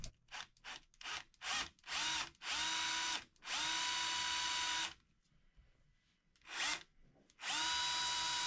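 A power drill bores a hole in wood while making a woodworking sliding bevel. It starts with several short stuttering bursts, then runs in longer steady whines, pauses briefly, and drills again, close and loud.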